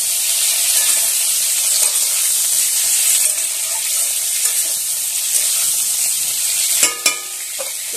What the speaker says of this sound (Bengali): এবার ভেজে নেবো ভালো করে